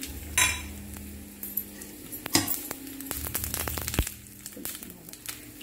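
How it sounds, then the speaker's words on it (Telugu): Mustard seeds and tempering spices crackling in hot oil for an allam pachi pulusu, with scattered sharp pops and clicks, light sizzling and a few utensil clinks against the pan. "ఎప్పుడు కూడా ఈ ఆవాలు చిట్టపట్టలాడాలి"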